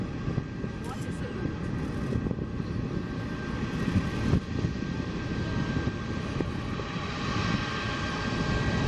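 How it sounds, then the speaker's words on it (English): A Boeing 767 jet arriving from JFK on an airport's opening day gives a steady, broad engine roar with wind buffeting throughout, fairly distant and unbroken. "A fitting welcome for the Boeing 767 flight from JFK, New York."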